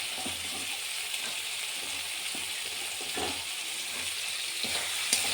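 Cut potato pieces frying in a pan for a mourola fish curry, a continuous soft hiss of sizzling oil with faint occasional stirring taps, steady and fairly quiet.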